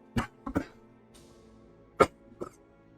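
A few sharp coughs in quick bursts, two close together, then a louder one and a softer one after a pause, with quiet between.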